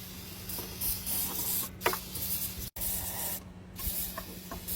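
Starting fluid sprayed into a cold Opel GT engine with wiring problems: a close, continuous hiss in short pulses, broken by a sharp click and a brief pause, over a low steady hum, with no talking.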